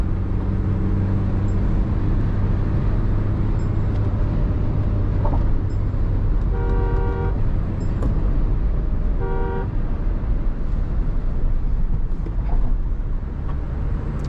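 A Mahindra Scorpio-N SUV drives along the road at speed in high gear, steady engine and tyre rumble throughout, with two short car horn toots sounding partway through and no talking.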